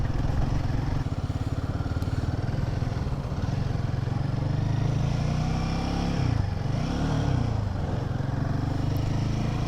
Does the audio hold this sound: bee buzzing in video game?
no